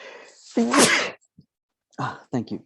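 A single sharp sneeze bursts out close by, followed after a pause by brief spoken words.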